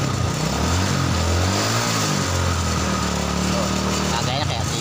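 A Honda Supra Fit motorcycle engine with suspected carburetor blockage idles and revs unevenly, a loud, close, continuous sputtering run with slight hesitation, while a voice talks over it.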